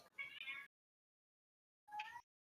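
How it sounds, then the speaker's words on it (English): A cat meows twice, the first a longer drawn-out call and the second shorter after a silent gap, quiet and close with nothing else around it. "I definitely hear the cat."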